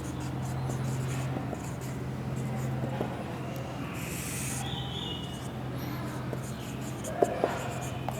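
Pen or chalk scratches steadily across a writing surface during an accounting lesson, a soft continuous scraping over a low constant hum, with no speech.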